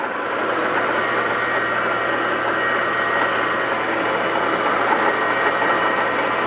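A machine tool slowly feeding in on its plunge setting gives off a steady, even mechanical hum and whir, with a constant drone and a faint high whine, close by and alone.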